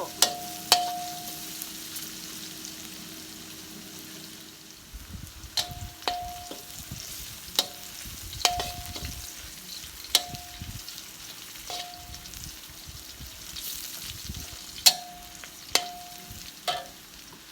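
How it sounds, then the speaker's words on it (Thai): Oil sizzles steadily in a pan as garlic fries while a utensil stirs, with sharp metallic taps against the pan every second or two. No one speaks. "เอาน้ำมันเก่าเจ้า เหลือไว้น้อยหนึ่ง เจียวกระเทียมเลย"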